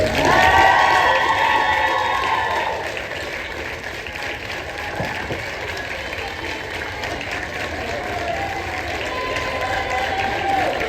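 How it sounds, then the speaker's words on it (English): An audience applauds and cheers for cheerleaders at a school event, a steady wash of clapping with shouts and whoops that fades slightly, voices and a whistle-like tone over the crowd. "let's give them a big round of applause for our cheerleaders"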